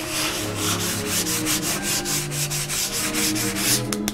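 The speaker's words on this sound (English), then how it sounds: "you're not sanding shellac anymore, you're sanding the color off" Close, rhythmic scratching of sandpaper rubbed lightly back and forth across a shellac finish on a wooden high chest, steady strokes repeating without pause and no voices.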